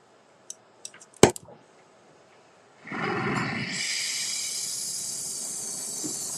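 A torch lights with a few sharp clicks and pops, then a big flame roars into a loud, steady hiss, used for melting metal.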